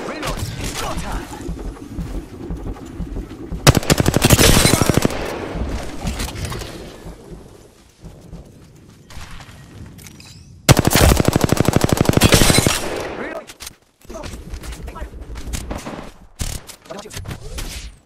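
Rapid automatic gunfire in the battle royale shooter Apex Legends, coming in two long, loud sustained bursts separated by quieter gameplay noise, with scattered lighter shots toward the end and a voice talking at times.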